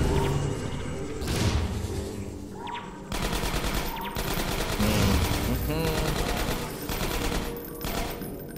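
Rapid machine-gun fire and scattered shots in the video game Half-Life 2 Episode One, loud and close, with thuds and crashes mixed in, and a voice talking over parts of it.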